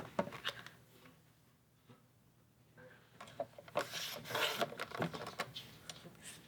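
Scissors cut through paper for a scrapbook travel layout, giving a quiet, close rasping crunch that grows busier and louder in the second half, with brief rustling before.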